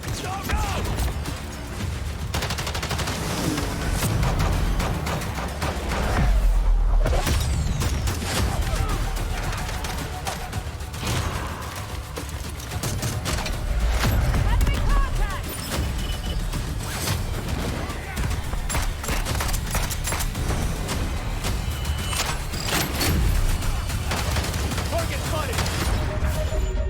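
Video game gunfire crackles in dense bursts and rattling volleys over a busy background of game noise and occasional voices, continuing at a fairly loud level throughout.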